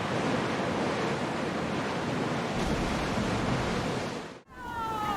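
Sea waves in Assassin's Creed Odyssey form a broad, steady wash of surf and wind that roars continuously, then drops out briefly near the end before the rushing water returns.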